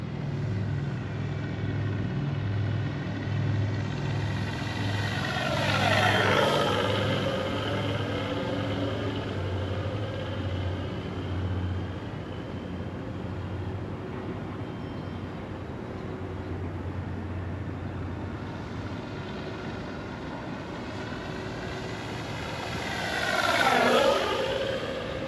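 A FlightLine Corsair RC warbird makes two low passes, its motor whine swelling and sharply dropping in pitch as it sweeps by close, then trailing off before returning for a second flyby near the end.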